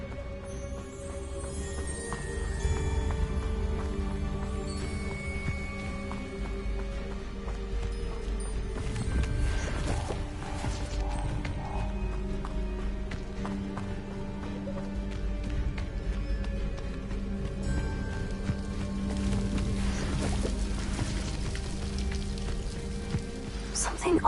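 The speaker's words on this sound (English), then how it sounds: "The waterfall." Waterfall in Hogwarts Legacy, a steady hissing rush of falling water like heavy rain, constant and moderately loud throughout with soft game ambience layered over it.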